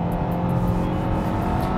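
A Kia Cerato sedan with a two-litre naturally aspirated engine and six-speed automatic pulls away hard from a standstill, its engine drone loud and steady from inside the cabin.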